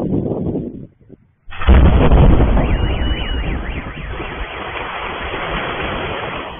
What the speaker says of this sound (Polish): Kilka sekund później słychać wybuch.